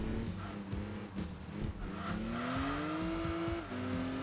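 Nissan naturally aspirated V6 engine, as used in the 370Z and Infiniti G35/G37, in the Enthusia Professional Racing video game, revving up through a steady climbing tone, shifting with a brief drop, then pulling again, with faint tire noise.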